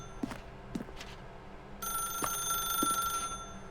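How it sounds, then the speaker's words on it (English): In The Stanley Parable, a telephone rings on and on: a few soft knocks first, then a steady electronic bell tone that keeps sounding, alone with no voices. "Let the phone keep on ringing."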